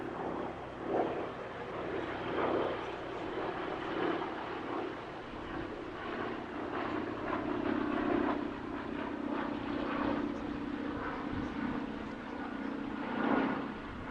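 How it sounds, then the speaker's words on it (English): A Douglas R4D, the US Navy version of the DC-3 and C-47 propeller transport, drones steadily overhead at an airshow, its piston engines' throb holding at a fairly constant distance throughout. "a very special airshow appearance from an aircraft that's come all the way from Texas, Douglas R4D"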